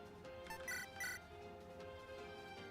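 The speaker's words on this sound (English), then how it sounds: "my phone made the craziest sound" A mobile phone gives a short chiming notification, two bright tonal bursts in quick succession over steady background game sounds, fairly faint.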